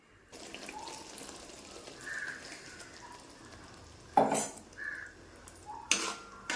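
Hot water poured into a cooking pan to rinse it while making ginger curry, soft splashing under low kitchen noise with two short, louder gushes of pouring near the end.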